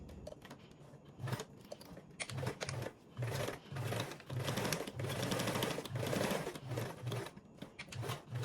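A sewing machine stitches along a folded fabric edge in short repeated bursts, its rapid needle chatter starting and stopping several times, close and clear with no talk.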